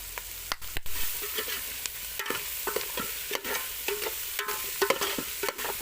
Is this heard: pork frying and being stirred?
yes